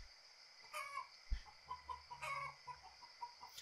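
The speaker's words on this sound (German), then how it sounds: "Oh, Hühner." Chickens cluck repeatedly in the survival video game Survive the Nights, a faint barnyard chatter of short clucks and squawks, with no talking over it.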